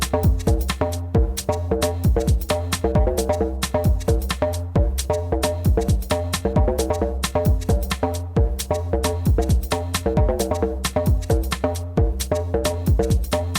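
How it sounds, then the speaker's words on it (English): An FM synth bass pluck, or donk, played on a Novation Peak: short percussive bouncing notes repeat in a steady, busy rhythm with a deep sub-bass underneath, loud and continuous with no voices. "we are going to make a simple bass pluck, also known as a donk, on the Novation Peak"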